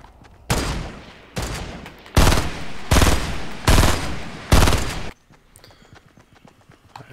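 Fortnite gunfire: a series of six loud bursts of automatic fire separated by short gaps, then fading to quieter game sounds.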